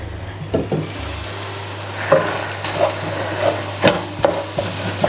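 Potato filling is stirred as it fries in a pan, each spoon pass scraping and knocking in uneven strokes over a soft, steady sizzle. The sound is up close, with no talking.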